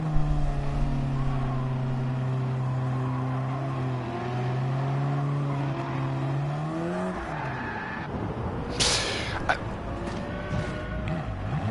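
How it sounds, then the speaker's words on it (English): Car engine in the Gran Turismo 7 racing video game, a steady droning hum that holds for several seconds, then shifts pitch and breaks into rougher, noisier bursts toward the end. "the engine sounds to me are one of the most important things for a racing game"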